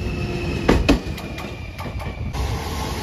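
A JR Shikoku 7200 series local electric train runs past on the Yosan Line near Marugame Station, a steady rumbling roll with a few sharp rail clacks early on and a sustained high whine.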